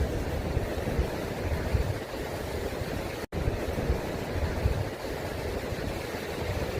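Steady rushing surf on a clean beach along the coast, a continuous broadband wash of breaking waves with some wind noise, loud and close, with a brief dropout midway and no talking.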